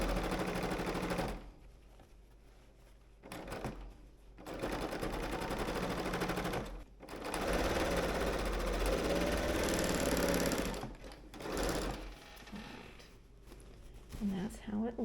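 A serger stitches and trims a shirt sleeve seam in rapid mechanical bursts that stop and start, loud and close, with a voice talking in between runs.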